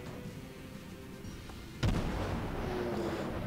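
Naval guns fire aboard a warship in World of Warships, a single sharp boom with a rumbling tail that rises over a steady low background hum.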